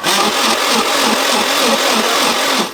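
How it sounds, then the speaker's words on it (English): A blender roars steadily at full power, straining through a thick bean mixture for moi moi, a dense whir that holds without pause from start to finish. "the blender was really struggling to blend that"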